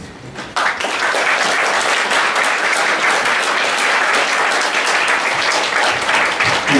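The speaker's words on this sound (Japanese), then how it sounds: "拍手しますよ。" A church congregation bursts into sustained, loud applause during an Easter Vigil Mass at a Catholic church, steady dense clapping that lasts several seconds.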